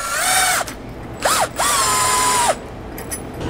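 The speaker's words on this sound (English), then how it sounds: "I'm just going to snug up our bolts using a 9/16 socket" A power drill with a 9/16 socket snugs up bolts while a Roadmaster Reflex steering stabilizer goes onto a 1999 Freightliner, giving three close, loud whirring bursts with rising and falling pitch and a short pause between them.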